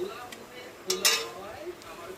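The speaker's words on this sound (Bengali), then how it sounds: "এবারে কালো জিরে আর শুকনো লঙ্কাটা ভালো করে নাড়াচাড়া করে নিতে হবে" Black cumin seeds and dried chillies are stirred in a pan, with a light sizzle under a couple of sharp metallic scrapes and clinks of the spoon, close by.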